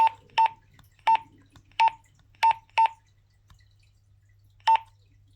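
Short, evenly pitched electronic beeps from button presses on a Ridge Rider UHF CB radio while changing channel, about seven close, clear bleeps in an irregular sequence over a faint steady hum.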